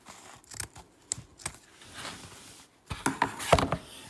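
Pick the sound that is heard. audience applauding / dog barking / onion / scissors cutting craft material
scissors cutting craft material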